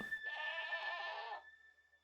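A Minecraft goat gives one drawn-out, wavering bleat lasting about a second, clear and alone over a thin steady electronic tone.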